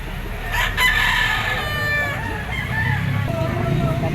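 Gamefowl roosters and stags crow loudly close by in a farm yard in Lipa, Batangas, with clucks and more crowing under someone talking.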